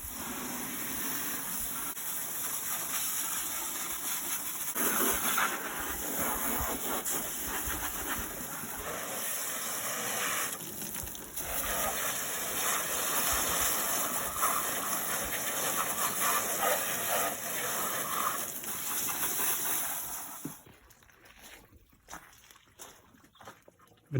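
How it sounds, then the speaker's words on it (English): A hose sprays water steadily over the engine bay of a 1997 Acura CL with a 3.0 VTEC six-cylinder, a dense hissing wash that runs for about twenty seconds before stopping, leaving quieter dripping and handling noises. "So we're gonna hose this all out and get it looking nice and clean again."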